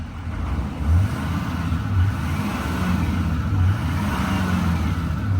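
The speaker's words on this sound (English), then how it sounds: "Let's give it a little rev." A newer GMC Denali pickup with exhaust filter warnings, revved at an auction lot: a deep, loud engine roar that swells in a few rev surges over a steady idle rumble, with no voices.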